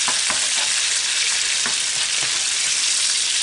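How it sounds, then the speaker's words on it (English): Garlic sautés in butter and lemon juice in a pan alongside seared lobster, making a loud, steady, close sizzle with a few soft stirring scrapes. "Saute the garlic until it gets fragrant and form that wonderful sauce here."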